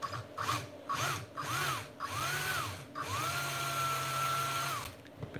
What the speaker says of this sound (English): There's two rivets holding this plastic floor in there. We're gonna go ahead and drill those out.